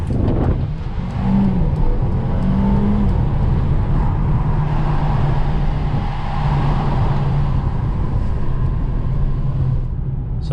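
A Mercedes GLA SUV with 4MATIC all-wheel drive accelerates on an evening road, a loud steady engine drone with rising tone and road roar inside a quiet cabin, no talking.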